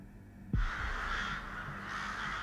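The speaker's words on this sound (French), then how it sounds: "Ces oiseaux, ne les laissez pas s'approcher." Crows caw loudly in the video game Crown Gambit, a sudden harsh call followed by drawn-out rasping caws against a low game ambience, with no talking.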